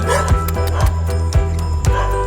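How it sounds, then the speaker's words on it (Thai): A nursing stray mother dog yips and barks in four short bursts over a loud, steady background of music-like tones. "ดีใจที่หมาเห่าด้วยที่หมาเห่าแม่ลูกอ่อนนะคะคนนี้"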